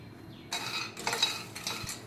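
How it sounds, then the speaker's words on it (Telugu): Peanuts frying in a pan, with quiet rattling and scraping as they are stirred and a few faint clinks against the pan. "ఫస్ట్ శనగకాయ పప్పులు వేపుకోవాలండి."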